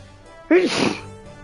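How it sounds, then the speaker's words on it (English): A single loud, close sneeze, a sharp burst that trails off within about half a second, heard alone without talk. "that fucking sneeze"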